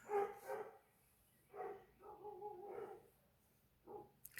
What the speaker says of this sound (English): That's her dogs you hear.